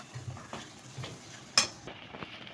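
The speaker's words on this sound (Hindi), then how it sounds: "मसालों को हम मिक्स कर लेंगे सही तरीके से" A spoon scrapes and stirs in a pan, mixing spices with coriander powder and salt for kabab karahi masala, giving a few soft clinks and one sharper metallic tap up close.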